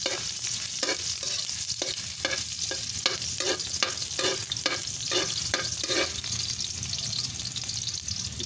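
Ginger sautéing in hot cooking oil for a Bicol chicken dish, a steady close sizzle with repeated scraping stirs of a spatula in the pan, no talking.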